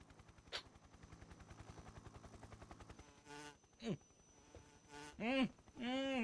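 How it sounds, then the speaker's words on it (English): Bees buzz in the jungle of the video game Metal Gear Solid 3: Snake Eater, a steady pulsing drone at moderate level, followed by several short loud whooshing and chirping game effects. "I know that the bees, they make the same sound."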